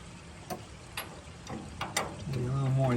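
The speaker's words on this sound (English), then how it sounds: "I'm gonna have to get a big nut socket or another wrench for that side." A socket wrench ratchets against a nut on a Ford F600 steering gear box, giving a few faint, spaced clicks under low background noise, followed by a brief voice near the end.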